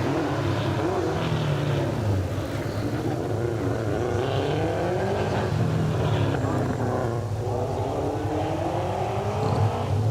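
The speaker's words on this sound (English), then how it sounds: "There's the little baby Grand miniature makes its way to the top of the mountain now, driven by Sean Williamson." Grand miniature sports car of the up-to-2000cc class climbing a mountain hillclimb course, engine revving and shifting through gears at a distance, under continuous commentary.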